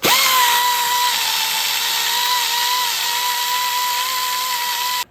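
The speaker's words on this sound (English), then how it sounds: "first thing I do is use these purple abrasive discs" A power tool fitted with a purple abrasive disc cleaning a brake hub during front rotor and pad replacement on a 2008-2015 vehicle, a loud, steady high-pitched whine that holds for about five seconds and then stops abruptly.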